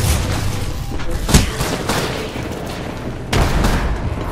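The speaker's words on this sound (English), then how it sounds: "They're shooting at me. Shooting. Firing." Apex Legends firefight, a handful of sharp booming gunshots spaced irregularly over a noisy background, with faint talk beneath.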